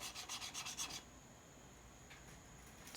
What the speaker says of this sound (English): to get rid of that burr, I'll just take it over to the finest grit that I had